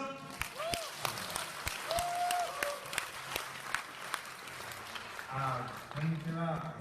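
A conference audience applauding Yu Suzuki, a dense spell of clapping with sharp individual claps standing out, while voices speak over it and a brief tonal sound rings out.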